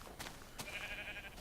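Sheep in the Minecraft video game bleat softly, a short faint bleat near the start with a few brief clicks and a thin tonal sound, all quiet and without talk.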